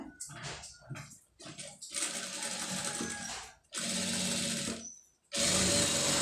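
A sewing machine stitches piping onto a blouse sleeve in a few short stuttering bursts, then in longer steady runs broken by brief pauses.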